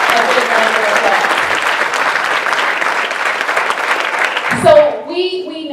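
An audience gives loud, sustained applause for a city council member for housing at a mayoral event, filling the room with dense clapping that fades out near the end as a voice begins to speak.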